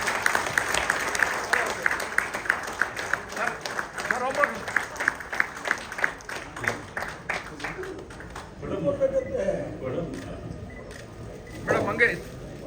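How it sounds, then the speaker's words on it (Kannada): An audience at a film launch event breaks into brisk, dense applause that gradually thins into scattered claps, with a voice talking over it toward the end. "ಬರಲಿ ಚಪ್ಪಾಳೆ."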